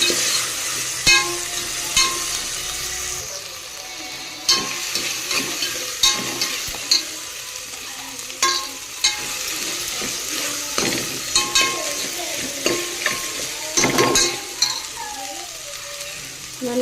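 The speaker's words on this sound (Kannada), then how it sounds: "ಟೊಮೆಟೊ ಹಾಕಿ ಫ್ರೈ ಮಾಡ್ಕೊಂಡು" Tomatoes frying in a pan for vegetable pulao with soya beans, a steady close sizzle broken by repeated scraping and clinking of a spoon stirring against the pan.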